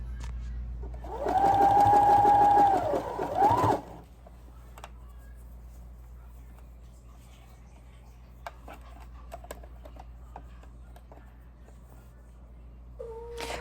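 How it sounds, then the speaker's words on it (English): A sewing machine stitching cotton jersey fabric for a child's dress runs in one loud, steady whirring burst of about three seconds close by, then stops, leaving quiet room noise with faint handling clicks. "as I sew, I'm going to keep gathering it, gathering all the way around"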